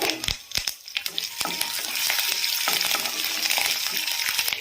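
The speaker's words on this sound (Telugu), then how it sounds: "అల్లం చిన్న చిన్న ముక్కలుగా చేసుకున్నాం కదా, అది యాడ్ చేసుకుని ఫ్రై చేసుకుందాము" Chopped ginger and curry leaves crackling in hot oil for rice rava upma, opening with sharp spatula knocks and pops before settling into a dense, close, continuous sizzle.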